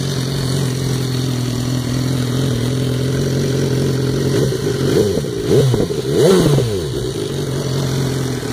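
A twin-cylinder BMW motorcycle fitted with an MOA exhaust idles with a deep steady burble, then blips its throttle in a couple of quick revs before settling back to idle, close and loud.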